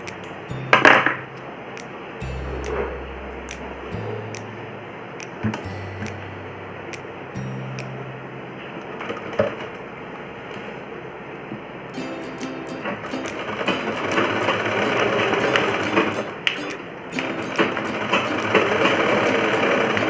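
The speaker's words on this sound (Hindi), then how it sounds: "इतनी चौड़ाई लेकर के हम इसको सिलाई कर देते हैं।" A sewing machine stitches the seam of palazzo trousers in close, rapid whirring bursts that stop and restart, building into a longer continuous run toward the end, with brief knocks and rattles in between.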